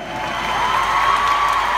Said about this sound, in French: applaudissements pour les enfants, s'il vous plaît.